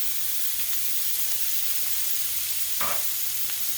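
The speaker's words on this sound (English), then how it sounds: "I love the smell of onions sauteing." Onions sauteing in butter in a pan give a steady, close sizzling hiss, broken once by a brief louder scrape of stirring near the end.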